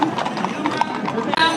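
Horse hooves clip-clopping on a road during a Sant Antoni street procession, a quick series of close, sharp hoof knocks over a busy background, with people talking.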